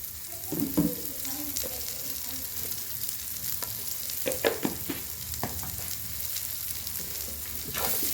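Two small chopped onions with a pinch of salt fry in a pan, giving a steady close sizzle for about eight seconds. Occasional scraping stir strokes and clacks rise above the hiss.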